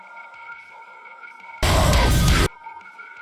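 A delta signal from an EQ plugin, carrying only the frequencies its filters remove, sounds as a loud broadband burst of under a second that cuts in abruptly over a quiet tonal hum and then stops.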